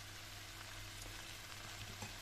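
Steady, close sizzling from meat frying in a hot pan with onion and peppers, a dense crackling hiss with occasional soft stirring scrapes and no talking.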